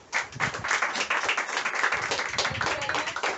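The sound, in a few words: applause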